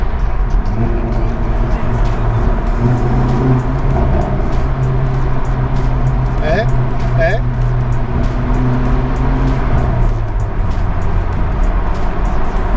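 A Hyundai i30N hot hatchback engine hums steadily and close, with a brief rise in revs partway through, continuous and loud throughout.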